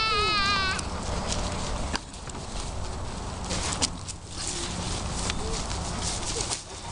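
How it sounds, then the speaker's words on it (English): Goats bleating in a goat house at an outdoor farm setting, a continuous noisy wash of animal calls and ambient sound with a brief warbling tone at the start, fairly loud and close throughout. "Okay, goats."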